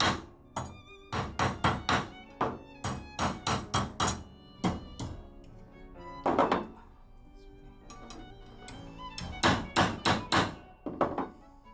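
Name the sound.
hammering a knife tang straight on a small anvil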